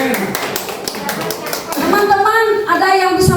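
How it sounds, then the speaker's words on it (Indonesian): Children clap together for a classmate in a school setting, a short burst of quick claps that swells under a teacher's voice. "Bagus, tepuk tangan buat Haji Len."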